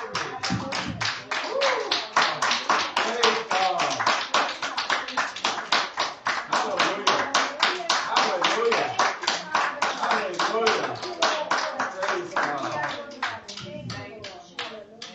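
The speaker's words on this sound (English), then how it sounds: "Give God a big clap offering" A church congregation claps in sustained, dense unison as an offering of praise, with a loud, steady rhythm running about fifteen seconds and voices mixed in underneath.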